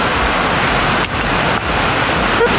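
A rocky mountain stream on a hiking trail in the Pyrenees near Lourdes pours continuously, as loud, dense rushing water close by that holds steady throughout.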